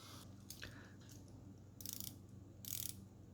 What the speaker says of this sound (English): Bezel is actually very easy to turn.